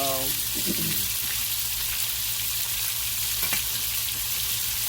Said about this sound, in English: go ahead and give these sausage a little stir